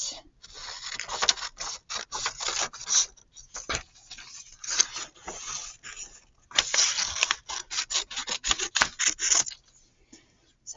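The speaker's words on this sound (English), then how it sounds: "I'm going to cut this bottom one out" Scissors snip repeatedly through paper to cut out a bottom piece, close and crisp, with short bursts of cutting broken by brief pauses.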